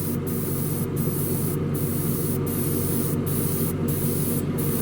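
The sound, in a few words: airbrush test spraying white primer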